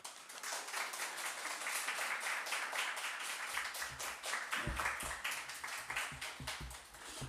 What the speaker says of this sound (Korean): 나오실 때 우리 축복의 박수로 또 사랑의 박수를 다하겠습니다